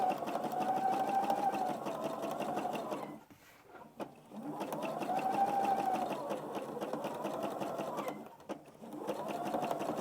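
A sewing machine stitching around an egg appliqué on a scrappy table runner hums in long, steady runs of fast needle chatter, pausing briefly twice between runs; close and moderately quiet.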